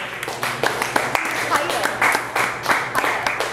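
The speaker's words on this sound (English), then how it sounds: "Please, if I can have a big applause for him." Audience applauding for a poet taking the stage at a poetry night in an espresso bar, steady clapping from a small crowd with bursts and cheers continuing throughout.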